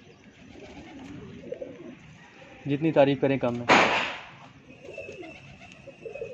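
A pair of Lakha pigeons cooing softly in the background, with someone speaking in Hindi in the middle and a short loud burst just after his voice.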